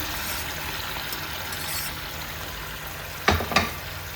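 Oil frying in a pan at home gives a steady, fairly loud hiss that carries throughout, broken near the end by two brief clattering bursts, likely from stirring.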